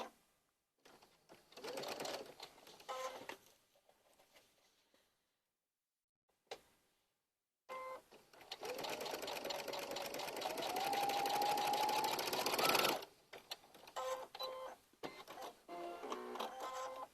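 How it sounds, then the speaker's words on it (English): Sewing machine stitching quilting fabric along a drawn diagonal line for an Easter basket, a steady mechanical whir running in bursts with short pauses, loudest in one long continuous run. "I'm going to put these two ends together, right sides together, and stitch on that line."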